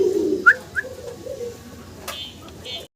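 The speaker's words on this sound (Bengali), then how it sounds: "লাহোরি দেখাইতেছি, দেখেন" Lahori pigeons cooing in a loft, with a couple of short whistle-like calls early and soft repeated coos continuing, close to the microphone.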